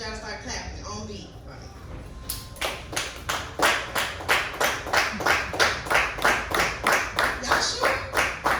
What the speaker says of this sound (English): I need y'all to start clapping on B.